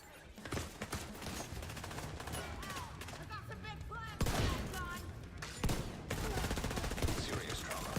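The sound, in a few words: minigun gunfire in video game The Division 2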